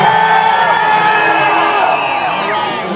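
A large crowd at a huge dodgeball game cheers, whoops and yells continuously, loud and close, holding a dense roar that eases off only slightly toward the end.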